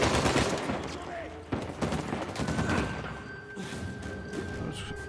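Turret gunfire in the video game Uncharted 4, inside a hazardous cave: dense bursts of automatic shots and heavy thuds, loud and continuous for several seconds with a sharp impact near the middle and a steady hum underneath.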